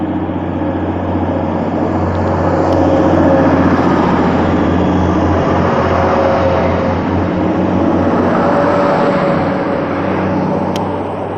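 TransPennine Express Class 185 diesel train at Durham station, a loud steady low engine drone and rumble that swells slightly and holds throughout, with no talk.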